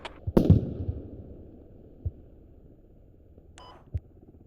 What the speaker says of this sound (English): I'm hearing mortars.